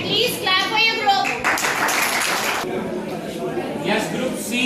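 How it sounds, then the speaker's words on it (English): A burst of clapping from several young children, ragged and uneven, with a voice and classroom chatter mixed in. "At least clap for your group."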